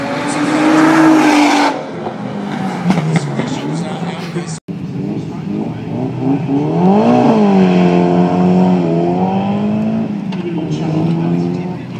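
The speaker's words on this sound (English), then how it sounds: "This is GTR 35 again." Nissan GT-R R35 rally car at a tarmac rally, engine revving loudly with rising and falling pitch sweeps as it accelerates and passes close by, with commentary or voices over it.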